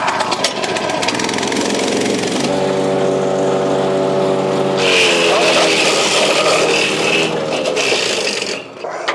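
Hansa wood chipper starting up and chipping Leylandii, a loud steady engine roar with a rising mechanical whine midway, then harsh grinding bursts as the branches feed through, close by and continuous.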